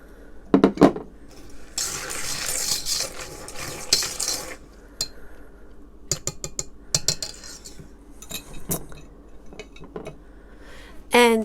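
Almonds being added to a mixing bowl for Moroccan fekkas biscuits, close clattering and rustling of nuts against the bowl with sharp clinks, in bursts with short pauses.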